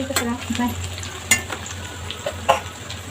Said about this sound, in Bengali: তো আমার এটা ভাজা হচ্ছে